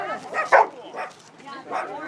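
A dog at a St. Francis Day Blessing of the Animals gathering gives a few short yips and barks, mixed in with nearby human voices.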